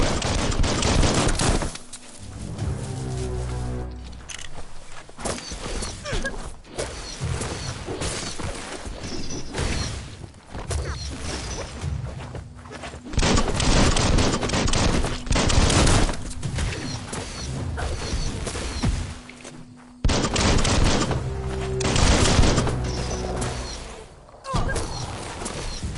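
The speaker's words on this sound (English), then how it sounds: "Bullets everywhere." Gunfire in the video game Biomutant: dense bursts of shots and rapid automatic fire crackle loudly in repeated volleys, with brief lulls between clusters and other mechanical clatter mixed in.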